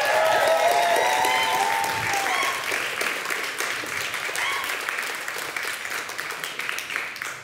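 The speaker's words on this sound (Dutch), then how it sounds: "Een warm applaus voor hen." Warm applause fills the room at a horror-themed evening event, a steady crowd clapping that starts under a brief tonal sound and gradually eases off in loudness over several seconds.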